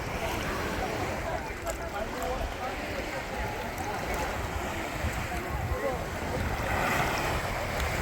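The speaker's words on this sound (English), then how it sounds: "Gotta be careful. One of the waves might take you." Ocean waves wash steadily on a beach at a cruise line's private island, a continuous broadband roar with wind buffeting the microphone throughout.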